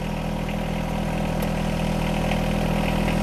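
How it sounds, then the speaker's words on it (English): A John Deere 1025R compact tractor engine idles steadily nearby, a constant low mechanical drone with an even throb, heard alone without talk. "We want to start the tractor."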